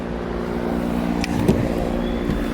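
Dodge Viper with a manual stick shift being driven, its engine a steady low drone heard from inside the car, with a slight swell midway and no talk.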